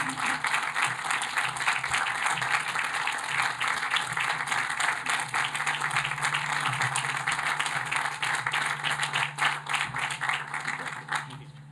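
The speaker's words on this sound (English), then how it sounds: "As he continues to write his legacy, we applaud Joe for his accomplishments" A crowd applauds at the Washington College commencement ceremony, a sustained, dense wash of clapping from many hands that holds steady throughout, heard from a moderate distance.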